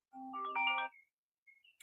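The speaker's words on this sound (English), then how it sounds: "That is my alarm." A phone alarm ringtone plays a short, bright melodic phrase of stacked tones for about a second, followed by a few faint, brief electronic blips. It sounds close and clear, with no talking over it.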